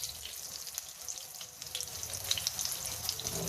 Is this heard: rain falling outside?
no